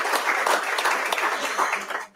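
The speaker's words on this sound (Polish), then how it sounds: "Wielkie brawa dla naszych patronów medialnych" Audience applause at a Polish-Ukrainian scientific conference, a steady wash of clapping from a crowd lasting about two seconds before fading out abruptly.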